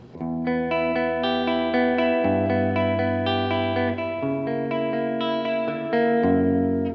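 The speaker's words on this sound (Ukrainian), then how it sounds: "Це у нас е, кімнатний звук, тобто рум." Electric guitar played through a room reverb effect pedal, sounding sustained chords that ring into each other with a smooth roomy tail, loud and steady with no talking.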